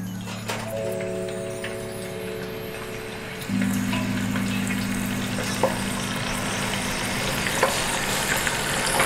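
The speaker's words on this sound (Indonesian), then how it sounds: "kita akan goreng terlebih dahulu udangnya ya" Shrimp fry in hot oil in batches, a steady close sizzle that grows louder partway through, with low tonal hums in the background and occasional small crackles, no talking.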